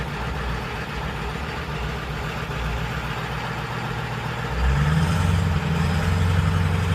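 A car engine runs steadily during transmission gear testing, its low drone alone and close, then rising in pitch and loudness midway as the revs climb with a gear change.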